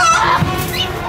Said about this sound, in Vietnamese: Đúng là mấy con gà chết tiệt thì thiệt chứ.